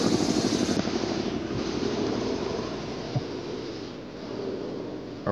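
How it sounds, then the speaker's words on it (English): A loud, continuous helicopter drone with a steady rotor hum filling the whole stretch, close and unbroken. "Oh, no, that's a helicopter."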